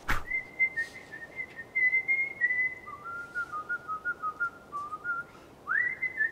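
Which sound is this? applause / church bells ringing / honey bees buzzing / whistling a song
whistling a song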